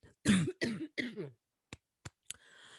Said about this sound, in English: I coughed, which means it's confirmation.